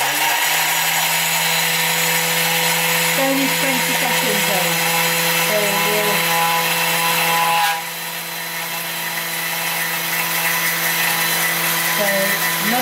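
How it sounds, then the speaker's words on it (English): A Thermomix grinding sugar and lemon peel together, a loud, steady high-pitched whir that holds constant before dipping slightly in tone partway through, with someone briefly speaking over it. "I'm just going to grind the sugar and the lemon peel together"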